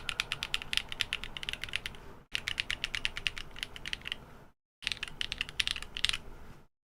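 Fast, poppy clacking of keys on a Neo Ergo mechanical keyboard fitted with added foam, typed close up in three continuous bursts separated by short silent gaps, with no talking.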